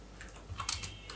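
Computer keys are pressed on a keyboard in a few soft, quick clicks close by, with a slightly louder cluster of taps near the middle and one last tap at the end.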